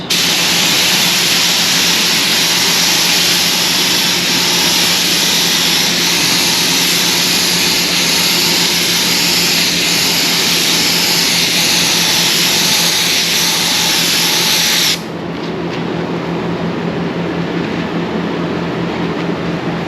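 Spray gun laying down gelcoat, a loud steady hissing blast held for about fifteen seconds before cutting off abruptly, leaving a quieter background hum.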